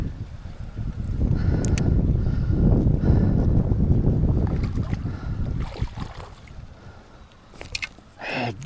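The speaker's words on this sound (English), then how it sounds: "It's a little windy today and I'm fishing with no sinker." Gusty wind buffets the microphone at a creek in Wolf Creek, Virginia, a loud, low rumble that swells for several seconds and then eases into quieter rustling, with a few small clicks near the end.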